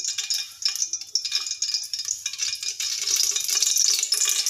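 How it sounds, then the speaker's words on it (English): Gingerly oil being poured into a pressure cooker on the stove gives off a steady, close sizzling and stirring texture that builds gradually and keeps going the whole time, with no talking. "Add 3 to 4 teaspoons of gingerly oil."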